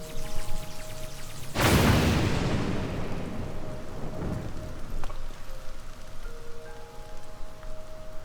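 In a Tears of the Kingdom storm, a loud thunderclap cracks and rumbles away while steady rain hisses throughout, with soft game tones lingering under the downpour.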